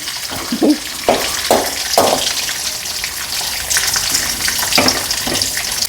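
Semolina is dry-roasted in a pan for upma, with loud, repeated scraping strokes of a spoon against the pan over a steady sizzle.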